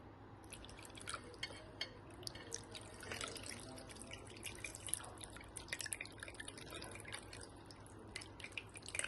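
Tamarind pulp poured into a pan of oil with curry leaves and onion for a fish pulusu, a close, soft liquid dripping and splashing with faint sizzle underneath, steady throughout with no talk.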